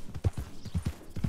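Horse hooves clip-clopping in the video game Red Dead Redemption 2, a quick uneven run of close, soft thuds at a walking pace, with no talk over them.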